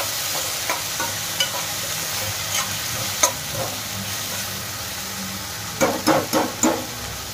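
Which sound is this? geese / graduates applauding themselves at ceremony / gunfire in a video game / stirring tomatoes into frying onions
stirring tomatoes into frying onions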